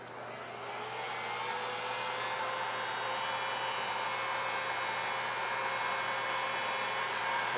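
A heat gun blows steadily and close up as it warms a vinyl decal on a painted surface, a continuous even whoosh that rises slightly at the start and holds for several seconds with no talking.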